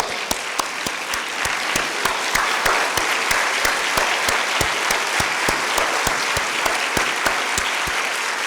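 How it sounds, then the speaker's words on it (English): Audience at a university convocation ceremony giving a standing ovation, a steady, dense wash of clapping from many hands with sharp individual claps standing out, continuing evenly without voices. "I need a standing applause for ED Saab."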